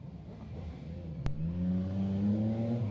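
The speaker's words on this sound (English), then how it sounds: "You'll hear motorcycles going by." A motorcycle engine revs up and drones past nearby, its pitch rising steadily after a brief sharp click.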